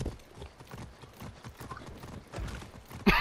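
In Far Cry 6, a horse's hooves pound out a quick, steady run of galloping beats at moderate volume, ending in a sudden sharp crash-like burst.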